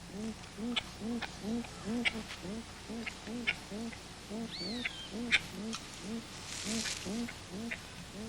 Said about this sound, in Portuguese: o grito de alarme avisa a aldeia sobre o perigo